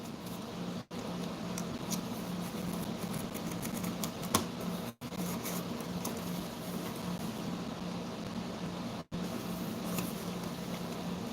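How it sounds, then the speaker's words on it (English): A steady air-conditioning hum fills the background, faint and constant, with a few brief dropouts and no voices. "sorry if you guys can hear the air conditioning in the background"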